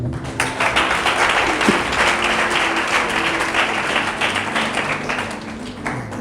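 A church congregation applauds steadily and loudly, many hands clapping in a dense continuous wash that fills the space and holds until near the end.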